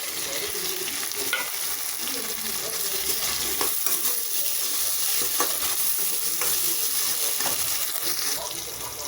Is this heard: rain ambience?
no